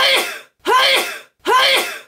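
Three sharp sneezes burst out in quick succession, loud and close, each a short explosive release separated by brief silences.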